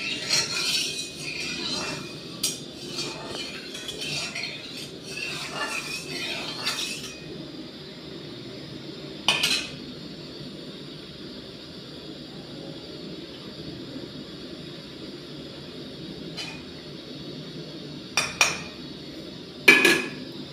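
Metal spatula and utensils clinking against a pan of heating oil in a home kitchen, scattered sharp taps and scrapes, a dense cluster early on, then isolated clinks over a low steady hum.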